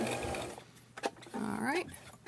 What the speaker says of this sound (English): So this is just the top stitch.